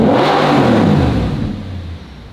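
An Audi 4.2 V8 revs hard as the throttle is pressed, a loud, close engine roar that rises and then eases off toward the end, with no talking.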